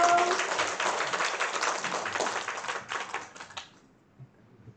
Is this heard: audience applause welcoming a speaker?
yes